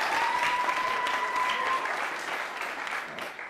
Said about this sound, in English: So those are really great, so I'll give those a round of applause.